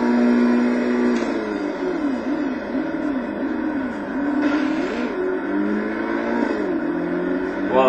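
Race car engine in the German GT challenge of the Total Immersion Racing video game, droning and revving steadily and loud throughout, with a brief scrape as the car bottoms out.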